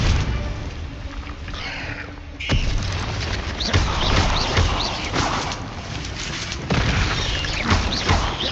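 Confringo blasting spells bursting in a Hogwarts Legacy duel, a run of loud booming impacts and crackling blasts in quick succession over a busy combat background.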